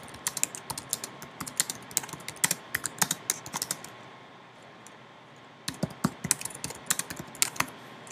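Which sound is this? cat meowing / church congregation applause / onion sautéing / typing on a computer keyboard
typing on a computer keyboard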